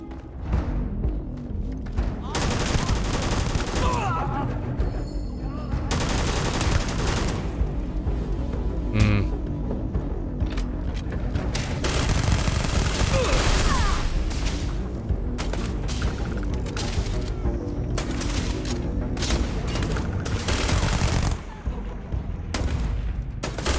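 Gunfire in Starfield: repeated bursts of shots and automatic fire with heavy thuds and booms, loud and close, in clustered volleys separated by short gaps.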